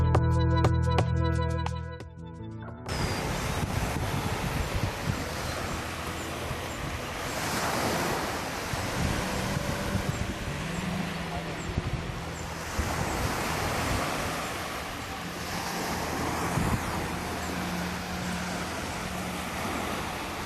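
Ocean surf and gusting wind roar steadily at a beach after a brief burst of music, a continuous washing rush with swelling waves and no voices.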